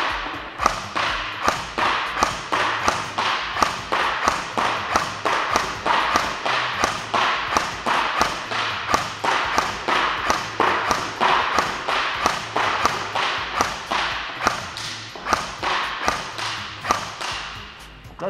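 An airsoft M4 rifle with a silencer fires a long run of suppressed shots, steady rhythmic thuds and taps at close range, about three per second, with no talk over them.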